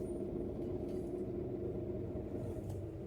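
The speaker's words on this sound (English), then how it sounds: "That is the sound of the Atlantic Ocean." Steady low roar of Atlantic Ocean surf on the west coast of Ireland, a continuous deep rumble with no distinct breaks, heard from a distance.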